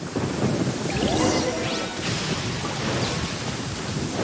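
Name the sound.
thunder in a lightning storm, from the video game Genshin Impact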